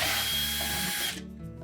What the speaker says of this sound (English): we're going to remove the screws that secure the inner door panel to the outer door panel and control panel